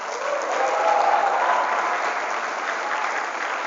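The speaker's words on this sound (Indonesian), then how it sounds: "Tepuk tangan buat saya." Dense audience clapping at a motivational seminar at Pondok Modern Al Faroby, an Islamic boarding school in Lampung, steady and moderately loud for a few seconds, with no speech over it.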